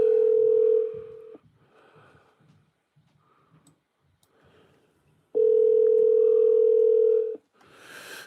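A dial tone rings out through an Alexa smart speaker placing a call: a loud steady tone for about a second, a quiet gap with faint background noise, then a second long tone near the end.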